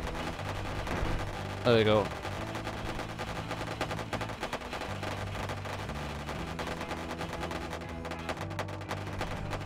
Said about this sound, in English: Wow, you're still actually firing at me.